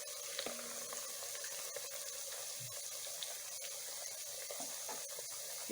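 Beef frying in hot oil for Jollof rice stew, a steady broadband sizzle with light crackles and pops close by, running without a break and with no one speaking.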